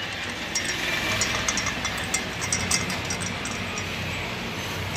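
An engine with a loose piston runs at idle, giving a steady rough mechanical drone with faint irregular rattling and knocking ticks, heard close and alone.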